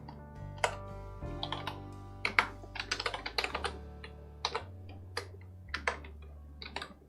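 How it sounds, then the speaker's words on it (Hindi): Fingers type on a computer keyboard in quick irregular bursts of close, crisp key clicks, entering a report heading in database software, with no talking. "तो मैं यहाँ पर क्लिक करके टाइप करना शुरू करूंगी।"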